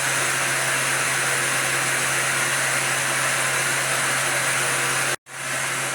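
A Star SR20J CNC lathe spindle, a 2014 machine, spins at 8,000 RPM as a loud steady high whine and rush of air that cuts out abruptly for a moment near the end, then resumes.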